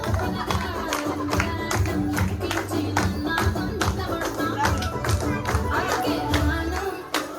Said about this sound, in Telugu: చప్పట్లు కొట్టు చప్పట్లు